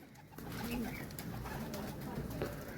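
Pigeons kept in a rooftop loft by a pigeon fancier make a continuous low cooing and fluttering that runs under a noisy background, with a voice mixed in.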